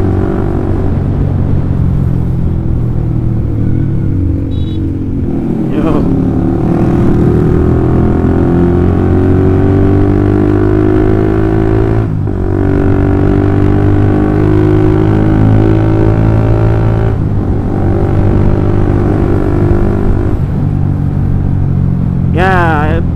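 A Honda CB150R motorcycle fitted with a DOS full-system exhaust muffler rides along a bumpy, uneven road, its engine droning steadily and loud up close, with brief throttle changes and shifts breaking the continuous rumble.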